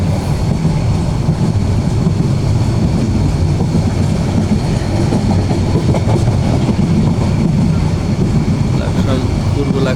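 Sound from inside a fast train near Laksam, a loud continuous rumble and rattle of the moving carriage with a steady clatter throughout.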